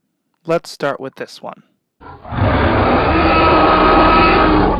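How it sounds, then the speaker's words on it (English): The Tyrannosaurus Rex roar from the film Jurassic Park: a loud, long, rasping bellow that swells and holds for a couple of seconds, following a brief spoken line. "the iconic T-Rex roar that we know today"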